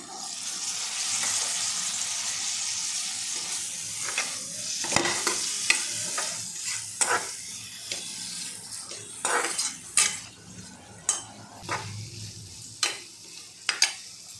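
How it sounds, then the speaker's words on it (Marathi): Mixed vegetables for achari vegetable pulao frying in a pan, a gentle sizzle beneath repeated sharp clinks and scrapes of a metal spoon against the pan, the strokes growing more frequent and louder over time, no talk. "आता आपली भाजी चांगली परतून झाली"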